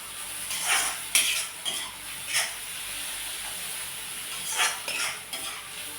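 Sliced onion and chopped green chilli sauté in a pan for an egg gravy. A soft, constant hiss runs underneath while a spoon scrapes and knocks against the pan in a few irregular bursts.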